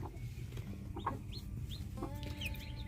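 A black hen clucks in short, soft bursts over a steady low background of farmyard noise, with a few higher calls near the end.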